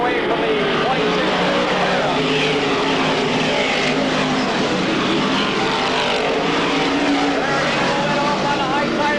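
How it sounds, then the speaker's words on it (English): A race car, Johnson's number 12B, accelerating hard on a speedway, its engine a loud continuous roar that fills the whole stretch without a break. "Johnson brings the 12B to life by simply standing on the gas."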